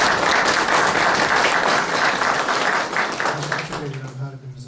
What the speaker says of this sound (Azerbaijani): Mən istərdim ki, bir alqışlarla Nizam müəllimi yad eləyək.